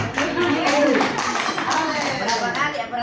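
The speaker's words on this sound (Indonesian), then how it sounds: "Tepuk tangan dulu." Group hand clapping at an opening session, a dense patter of claps mixed with voices speaking over it throughout.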